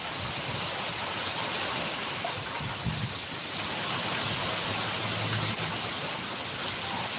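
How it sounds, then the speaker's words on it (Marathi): Steady heavy rain mixed with wind, a dense continuous hiss and roar outdoors that stays even throughout with no pauses and no voices. "पाहू शकता कशी हवा पाऊस चालू आहे"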